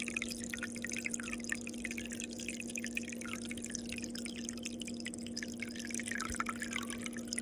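Warm water runs from a tap in a mountain holiday house, a faint steady trickle and dripping over a constant low hum, with no voices.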